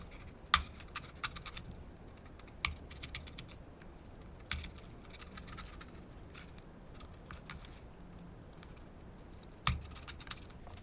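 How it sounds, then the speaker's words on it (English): A craft knife cuts a small rectangular hole, giving sparse, sharp clicks and scratchy scrapes at irregular intervals, close and fairly quiet over a low room hum, with no talking. "So I'm going to cut that out with my craft knife as well."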